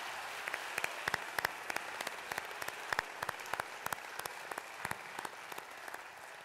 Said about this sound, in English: before you go, I want one round of applause for the Herbert family for sponsoring this e